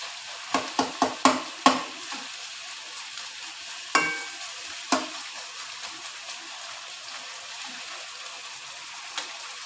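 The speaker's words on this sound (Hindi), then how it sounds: "चले जी टमाटरों को और चिकन को मैंने भून लिया" Tomatoes and chicken frying in a kadhai: a burst of quick, sharp scraping clicks from a spoon, then sparser knocks over a steady, low sizzle that carries on alone, close by.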